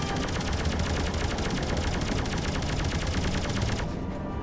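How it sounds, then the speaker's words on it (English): Rapid, continuous machine gun fire from ships in the space game Rodina, a loud, steady rattle of shots that cuts off abruptly near the end. "Machine guns!"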